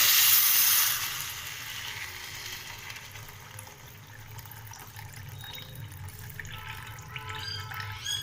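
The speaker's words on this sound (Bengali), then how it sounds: "এবার আমরা এর মধ্যে একটু হট ওয়াটার অ্যাড করে দেব।" Hot water poured into simmering ghugni (an aloo kabli, chickpea-potato curry) in a pot, a steady liquid rush that is loudest at the start and then settles into a softer continuous flow and bubbling.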